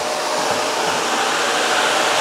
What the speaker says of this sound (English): You can hear the airflow off the bottom of the vacuum.